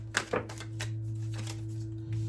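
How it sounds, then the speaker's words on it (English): Tarot cards being shuffled by hand, a few quick papery riffles and taps close up over a steady low hum. "I would have taken it from just shuffling"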